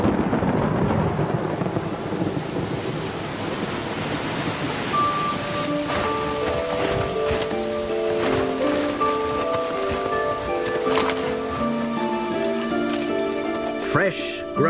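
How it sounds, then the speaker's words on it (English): A storm sweeps over Brazilian grassland, bringing a steady, even hiss of rain with faint low rumbles, partly under a layer of musical tones. "Another storm, but this time it brings long-awaited rain."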